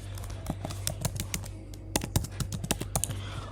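Someone types an email address on a computer keyboard, a close, quick run of crisp key clicks with short pauses, set against a steady low electrical hum.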